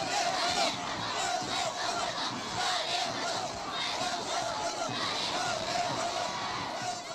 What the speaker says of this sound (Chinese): 不断欢呼